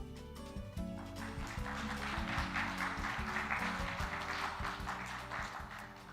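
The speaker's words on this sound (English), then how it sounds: "Please join me in welcome her with a big round of applause." Audience applause at the closing ceremony of the World Bio Summit 2025, a steady wash of many hands clapping that swells after the first second and continues over low, tonal background music.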